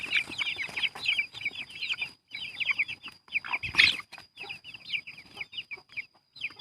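Pin Khiri and Yok Khiri line chicks cheep in rapid, high bursts over occasional clucking from chickens, a busy, close flock sound broken by brief pauses.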